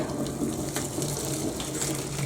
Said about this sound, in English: Pour that down the sink.